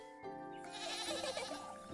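A little goat bleats in a video game, a single drawn-out wavering bleat, close and clear over a steady soft game backdrop.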